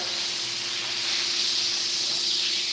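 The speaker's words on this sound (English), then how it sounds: "We got a perfect sear on this roast" A pot roast sears in a hot pan, giving off a steady, even hiss of sizzling fat that stays close and fairly loud throughout, with no talking.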